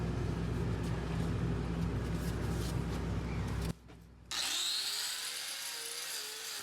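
Trimming a cow's hooves with a power tool, a steady grinding rasp that breaks off briefly, then resumes as a higher, thinner whine with small pitch shifts, close and continuous.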